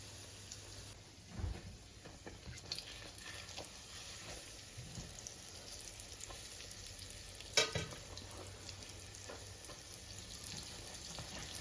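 Soft cream cheese flatbread dough frying gently in a pan over moderate heat with little oil gives a steady, quiet sizzle throughout, broken by a few faint knocks and one brief sharp click.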